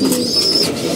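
Pigeons kept as pets coo nearby, a soft continuous murmuring call filling the whole second at steady loudness, with no voices.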